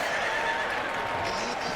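A horse whinnies in a TV show scene, a brief neigh blended into dense, loud soundtrack noise, with voices talking over it.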